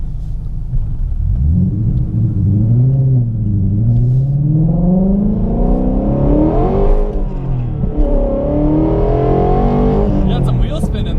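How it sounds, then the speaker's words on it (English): A Ford Mustang Shelby GT350 V8 with manual gearbox revs and accelerates hard with brief wheel spin, its loud engine drone rising and falling through the gears from inside the cabin, while people talk over it. "You got some wheel spin in there."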